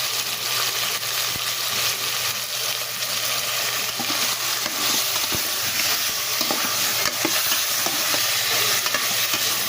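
Adobo sizzles and sautés in a hot pan, a loud steady frying hiss broken by scraping stirs and occasional clanks of a utensil on the pan.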